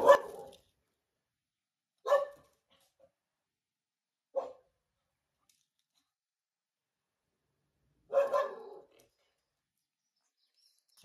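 A dog barks in four separate, fairly loud bursts spaced a couple of seconds apart, with silence between them and no talking.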